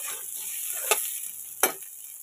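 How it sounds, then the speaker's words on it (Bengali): Soybean chunks fry in a pan with a soft, steady sizzle, broken by two sharp scrapes of a spoon stirring them. "ভালো করে আমার সোয়াবিনটা দেখো ভাজা ভাজা হয়ে গেছে।"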